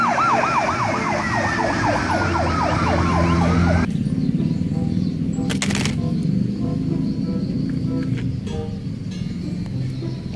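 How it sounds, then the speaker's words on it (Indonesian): A toy fire truck's electronic siren wails loud and close, first in rapid rising-falling whoops, then in a long sweeping tone that cuts off abruptly. Clicks and quieter toy noises follow. "Mobil pemadam kebakaran, fire truck."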